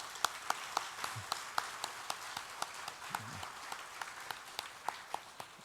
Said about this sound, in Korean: 사모님 잠깐 일어나시면 박수 한번